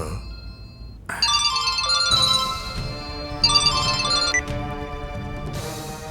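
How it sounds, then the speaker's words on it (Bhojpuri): A mobile phone ringtone plays a loud, bright electronic melody in repeating bursts for several seconds, close and clear, with a low background hum beneath. "मालिक विक्रम बाबू के फोन।"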